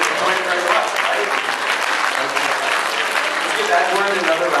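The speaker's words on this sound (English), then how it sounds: "Let's give Edward another round of applause" A dinner-party audience at a scholarship awards show applauds a Rubik's Cube demonstration with dense, sustained clapping that fills the room evenly, loud and unbroken, with faint voices mixed in.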